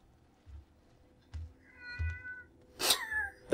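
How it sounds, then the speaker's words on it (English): A cat meows in a horror game, a few short plaintive cries, then a louder, sharper yowl near the end, with soft low thumps between them and no talking. "I have a woeful cat."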